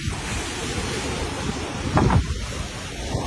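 Floodwater from the Moragahakanda reservoir rushes in a steady, broad roar, with one brief louder surge partway through; no voices.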